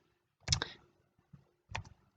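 Keystrokes on a computer keyboard while entering commands into control simulation software: a quick cluster of clicks, a pause, then a second short burst of taps, close and fairly quiet, with no voices.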